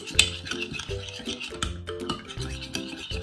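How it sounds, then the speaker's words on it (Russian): Salad dressing made with garlic, salt and pepper is stirred briskly in a bowl, a spoon scraping and clinking in a steady repeating rhythm, close and moderately loud with no talk. "И все тщательно перемешиваем."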